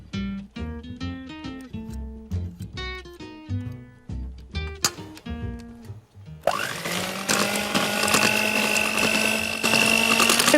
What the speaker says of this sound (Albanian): Kremdjathtin me sheqer bluar e rrahim në shpejtësi minimale.